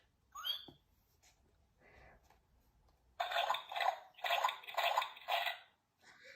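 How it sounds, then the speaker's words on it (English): Cartoon pigs jumping and splashing in muddy puddles: a few faint chirps first, then a run of about five loud, rhythmic wet splashes close by. "Everyone is having a wonderful, noisy time, jumping and splashing."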